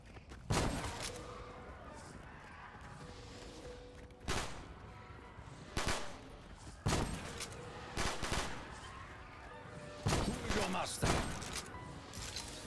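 Gunfire in Black Ops 3 Custom Zombies, a Legend of Zelda themed map: loud, sharp shots in irregular bursts over continuous game noise, with players talking between them.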